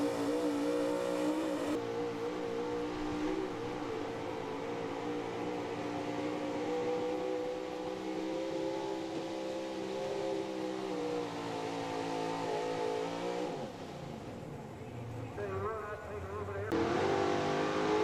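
A 1979 Chevy pulling truck called the Flying Farmer roars through a truck pull run, its engine revving hard and loud with a sustained, shifting drone that dips and climbs again near the end.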